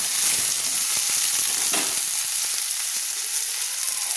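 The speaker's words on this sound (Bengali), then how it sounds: "নেড়ে নিচ্ছি" Chowmein fries in a hot pan with a dense, continuous sizzle close by, steady and loud, with faint scraping taps of stirring underneath.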